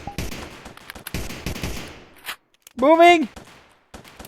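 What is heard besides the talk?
gunfire during combat training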